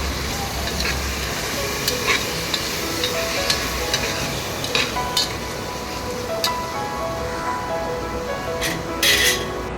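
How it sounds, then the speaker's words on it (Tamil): Tomato masala sautéing with thick curd in a pan for chicken biryani, a continuous close sizzle with occasional spoon clinks and stirring taps against the vessel. "கட்டியான தயிரையும் சேர்த்து நல்லா ஒரு ரெண்டு நிமிஷத்துக்கு வதக்கி விட்டுடலாம்"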